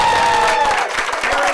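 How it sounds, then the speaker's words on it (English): Crowd at an outdoor political rally applauding and cheering, a dense, steady wash of clapping and voices, close and loud throughout. "So a rousing cheer for Elizabeth and the rest of us"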